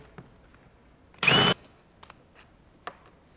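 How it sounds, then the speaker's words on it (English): A short, loud burst of a power drill removing bolts from a Tennant T5 auto scrubber, whirring for about a third of a second, with faint clicks and handling noises around it. "I'm going to go ahead and use my drill."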